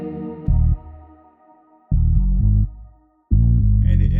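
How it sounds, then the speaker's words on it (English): A deep original bass line from an R&B sample loop plays three heavy sustained notes separated by gaps, loud and booming over a faint melodic layer. "I also changed the bass line from the original bass line that sounds like this"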